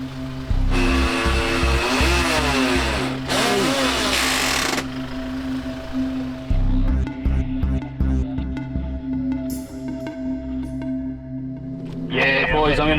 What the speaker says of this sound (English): Lost all drive, sounded like hell inside a gearbox.